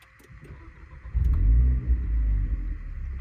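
A Renault Clio RS 220 EDC engine turns over after a gearbox fluid change and settles into a steady, low rumbling idle, close by and fairly loud, with no talking.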